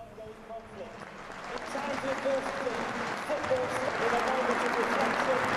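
A stadium crowd of Chelsea fans at Burnley applauds in tribute to Ukraine, distant and building in volume, with a commentator talking over the broad wash of clapping.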